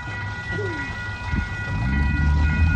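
A Western Maryland Scenic Railroad train with coal cars rumbles nearby, a steady low rolling drone with faint creaks and a brief squeal over it.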